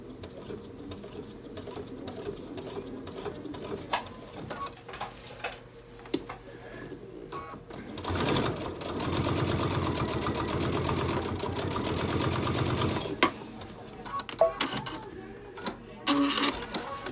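A Baby Lock sewing machine runs a steady, busy burst of stitching along a fabric strap, fitted with an edge joining foot and set to a long stitch length; quieter handling clicks come before and after the louder run.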